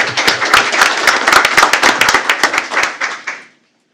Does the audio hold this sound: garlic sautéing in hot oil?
no